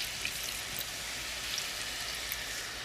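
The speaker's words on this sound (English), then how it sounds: "I just slowly pour some water" Water is poured slowly into a pan to make gravy, giving a soft, steady trickling hiss close by, with no voices.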